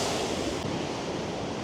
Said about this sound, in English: the waves can certainly come crashing right over